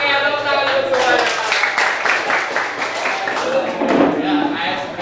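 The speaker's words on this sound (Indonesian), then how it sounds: "tepuk tangan dulu semuanya" A group of people claps together on request during an ice-breaking session, a steady stretch of hand clapping lasting the whole moment, with a voice talking over it.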